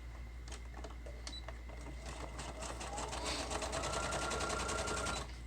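A sewing machine stitches through a paper-and-fabric master board for a junk journal, humming steadily and faintly, then growing a bit louder and faster partway through before stopping.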